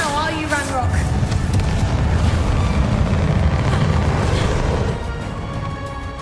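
Bombarda and Confringo blast spells from Hogwarts Legacy rumbling in a sustained, loud booming barrage amid game combat, with a voice speaking early on and the roar easing near the end.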